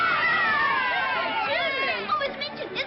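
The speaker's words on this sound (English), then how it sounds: "Do you hear the cheering?" A large crowd cheers and shouts in a busy, excited roar with overlapping voices, steady and fairly loud throughout a short stretch from a 1939 film.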